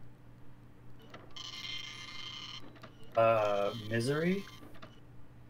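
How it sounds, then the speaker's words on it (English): A dot matrix cyber printer in the video game Space Quest 6 gives a single buzzy, whirring mechanical printing burst of about a second, fairly faint, followed by a voice speaking. "The cyber printer accepts your cyber file gratefully and begins to print"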